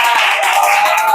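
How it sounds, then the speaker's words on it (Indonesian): A short burst of steady clapping from a classroom audience applauding a student group's presentation, dense and fairly loud with no voices over it. "kita beri aplaus"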